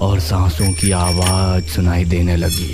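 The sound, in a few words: bicycle bell ringing, sound effect in a story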